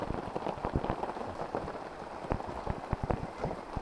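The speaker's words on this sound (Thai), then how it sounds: "ฝนตก" Steady rain falls in a forest, a dense continuous patter of drops on leaves and surfaces, close and even throughout with no voices.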